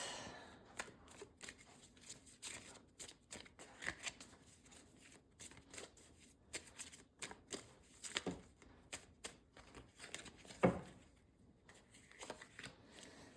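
Tarot cards shuffled by hand for a reading, a quiet, close run of irregular riffling bursts and soft slaps, with one sharper snap near the end and no talk.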